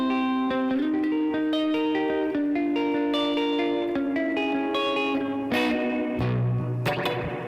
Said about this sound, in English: So here's the reverb.